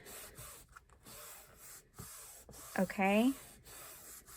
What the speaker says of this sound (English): Mash it down a bit, burnish it.